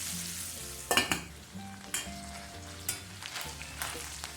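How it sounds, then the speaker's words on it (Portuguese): Calabresa sausage and sun-dried beef frying in a pan, a steady soft sizzle broken by scattered clinks and scrapes from stirring, close and fairly quiet. "já assou tanto a calabresa quanto a carne do sol"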